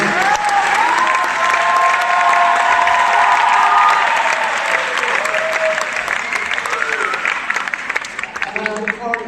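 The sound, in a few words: audience applauding a teacher at a school dance show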